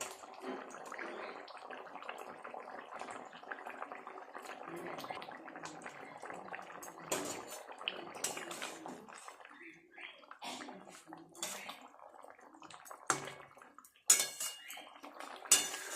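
Rohu fish pieces dropped one by one into boiling kalia gravy, faint clinks and clatters of a pot and utensils with soft bubbling and splashy bursts, fairly quiet and intermittent.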